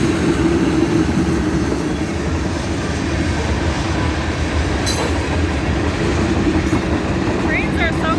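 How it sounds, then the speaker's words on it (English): A graffiti-covered freight train rolls past close by, a loud steady rumble of rail cars with wheel clatter and occasional high squeals throughout. "Trains are so cool, aren't they?"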